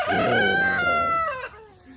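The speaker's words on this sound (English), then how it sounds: "These are where McCarthy's chickens actually live." A rooster or chicken gives a loud, drawn-out crowing call up close, trailing off into softer fowl noises.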